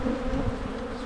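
Honeybees at an open hive on a January inspection, a close, dense buzzing drone humming steadily throughout the short moment with no voices.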